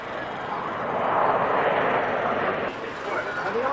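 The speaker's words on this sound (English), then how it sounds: "It's an airliner, I think." An airliner passing over North Weald Airshow, a broad steady jet roar at moderate distance that swells slightly and holds for the whole stretch, with no talk heard over it.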